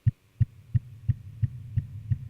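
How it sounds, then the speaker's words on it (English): Synthesized kick drum from a Mutable Instruments Clouds module, built from a water-drop sample with the module's reverb: seven evenly spaced deep thumps with a reverb tail between hits, alone and fairly quiet. "You've got a pretty plausible kick drum out of a drop of water there."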